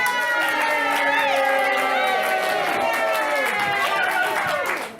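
A pantomime audience cheers and shouts together in a loud, sustained burst of crowd noise, with many overlapping voices whooping and calling throughout.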